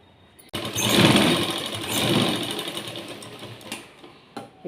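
Electric sewing machine stitching a blouse, its motor whirring up suddenly and running steadily close by, easing off and stopping briefly toward the end before restarting.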